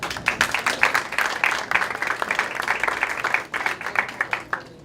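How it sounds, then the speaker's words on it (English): Audience applause at a World War I cultural festival event in 2014, a moderately loud, steady patter of many hands clapping that tapers off near the end. "Please, let's give a big round of applause for them and for me too,"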